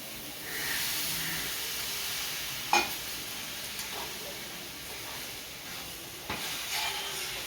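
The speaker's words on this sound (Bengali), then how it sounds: "এবার একটু জল দেবো আমি।" Water is poured into a hot pan of cooking ash gourd and sizzles up into a broad, steady hiss of steam, close and loud, with a few clinks of a utensil and no talking.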